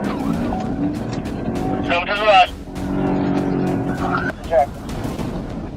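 During a police chase, a car speeds away with a steady engine roar and brief high squeals or whoops. Voices talk over it, heard as radio-style chatter.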